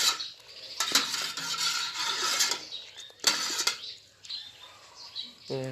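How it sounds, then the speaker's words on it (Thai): Sugar simmers in a pot while a utensil stirs and scrapes against the metal in irregular clattering bursts, with a voice speaking at times over the kitchen noise. "เคี่ยวน้ำตาลก่อนนะคะ เคี่ยวน้ำตาลก่อน ให้มันละลายให้มันหอม"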